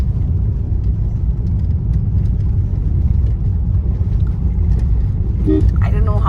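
A car driving along a coastal road near Kerala beaches, heard from inside as a steady low engine and road rumble, with a voice speaking briefly near the end.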